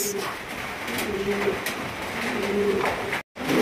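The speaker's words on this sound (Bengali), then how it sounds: "একদম বিশাল সাইজের ফ্যান্টাল কবুতর" Large fantail pigeons coo in soft repeated low murmurs close by, a steady background hum beneath, with a brief dropout near the end.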